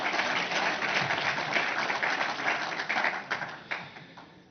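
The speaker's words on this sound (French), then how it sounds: "je vous demande d'applaudir toutes ces délégations" Audience applause rings out at an inaugural session of the Emerging Valley 2023 startup event, honouring the participating delegations: a dense, steady wash of many hands clapping close by, with a few sharper individual claps toward the end.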